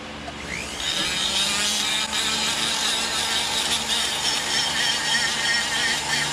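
A rotary carving tool fitted with a finer bit shapes a wooden walleye, giving off a steady, high, close whine that holds for several seconds without pause and with no talking.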